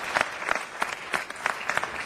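A city council meeting crowd claps steadily for about two seconds, a dense, even patter of many hands at moderate distance with no voices over it.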